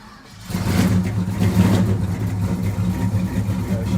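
A cold 1972 Chevrolet El Camino 454 big-block V8 cranks and catches after a brief pause, then settles into a deep, loud, rumbling run with a steady throbbing low end.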